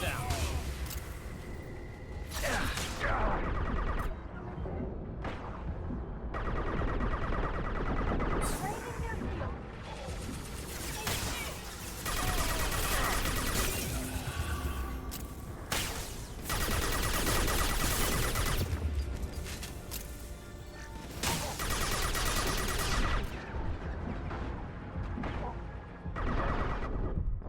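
Bursts of Mass Effect 2 gunfire and explosive blasts repeat in clusters over a long stretch, loud and close, mixed with game sound effects.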